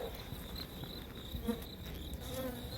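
Honeybees buzz steadily inside a grumpy observation hive fitted with a super, a soft, continuous drone with occasional louder passes of individual bees close by.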